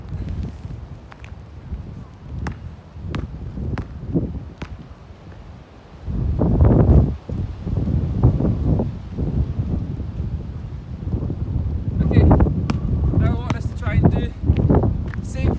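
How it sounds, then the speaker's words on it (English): Gusty wind buffeting the microphone in low rumbling bursts, strongest in the second half, with rustling and a person talking intermittently. "it is windy here"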